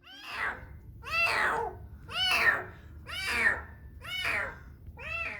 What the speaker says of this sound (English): he meowed constantly the whole walk back home